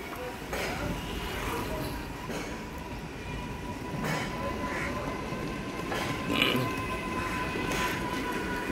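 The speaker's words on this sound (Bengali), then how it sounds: "এই দেখুন, মেট্রোটা ছেড়ে দিয়েছে," A metro train pulls away from a stop after waiting at a signal, its steady rolling rumble and rail noise heard from nearby with faint voices now and then.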